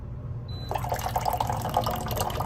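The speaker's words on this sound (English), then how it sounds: "So I just poured some water out of the Simpure machine." Water poured from a Simpure Y7P-BW countertop reverse osmosis dispenser, a brief beep then a steady close trickling stream filling a cup, with a faint bubbly gurgle throughout.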